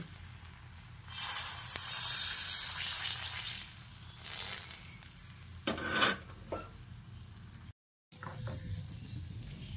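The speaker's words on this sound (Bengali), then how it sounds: "এবার এই ব্যাটার থেকে এক হাতা ব্যাটার নিয়ে তাওয়াতে দিয়ে দিচ্ছি।" Semolina and egg batter sizzles on a hot tawa over a low flame, a soft steady hiss with a few scraping, clicking touches partway through and a brief gap near the end.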